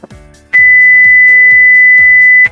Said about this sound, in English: listen to that beep